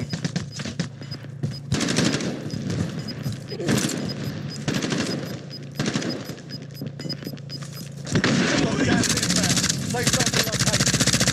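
Bursts of rapid automatic gunfire rattle through a Call of Duty: Warzone match, loud and nearly continuous, with a player's voice speaking over the shooting.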